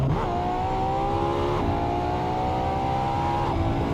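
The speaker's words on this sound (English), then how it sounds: "Listen to the sound on that exhaust." A Ferrari's exhaust in the driving game Assetto Corsa, a loud sustained engine note rising steadily in pitch through two gear shifts, with no talk over it.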